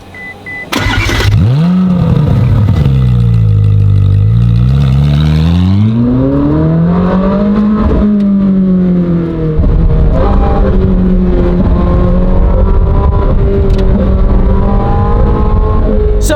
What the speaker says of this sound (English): see how fast the 300-pound lighter, naturally aspirated 458 Speciale does against the modified Huracan